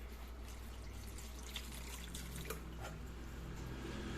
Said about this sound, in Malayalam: എന്നിട്ട് ആവശ്യത്തിന് വെള്ളം ഒഴിക്കും